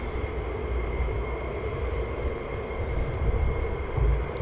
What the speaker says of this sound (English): So we have another couple taxiing down.